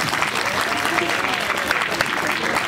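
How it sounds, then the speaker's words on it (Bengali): An audience at a Hindu religious festival and conference applauds students receiving awards, a dense, steady burst of clapping that fills the whole moment at close range. "জোরে হাততালি, একটু জোরে হাততালি।"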